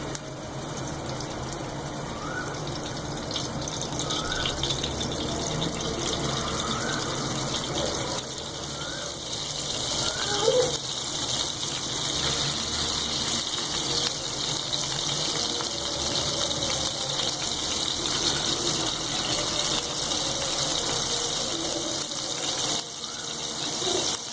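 Gola kebabs lowered one at a time into hot oil over a medium flame, giving a steady, close sizzling hiss that continues unbroken throughout.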